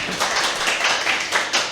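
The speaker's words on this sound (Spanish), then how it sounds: "Recibámoslo con un fuerte aplauso" Applause rises from an audience at a tax workshop as a speaker is welcomed, a dense, steady wash of many hands clapping for under two seconds.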